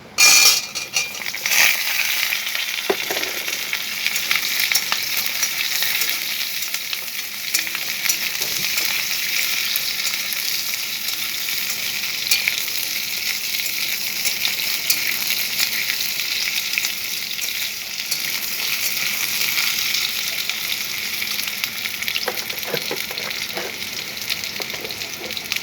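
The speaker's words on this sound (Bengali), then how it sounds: "এখন দিয়ে দিচ্ছি কেটে রাখা আলু" Cut potatoes fry in hot oil seasoned with bay leaf and dried chilli, giving a loud, steady sizzle with faint clinks and stirring, heard alone without talk.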